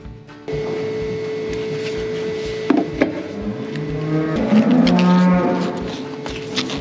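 A dairy cow held in a hoof trimming crush lets out a long, loud, close moo and then a second one, over a steady hum and the clanks of metal gates.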